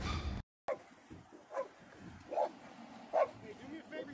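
A police dog barks several times in short, spaced yaps at a roadside police stop, moderately near and mixed with background noise after a brief dropout.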